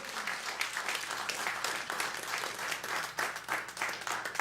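Audience applause at a live Texas music show, a steady wash of many hands clapping that holds at a moderate, fairly distant level throughout without any talk.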